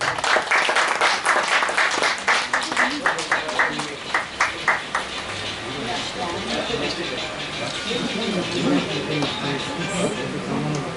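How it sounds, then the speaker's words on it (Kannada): Audience applause at an anniversary event in an auditorium, a crowd clapping steadily at close range and then continuing more diffusely under a lively room background. "ಜೋರಾದ ಚಪ್ಪಾಳೆ ಬರಲಿ."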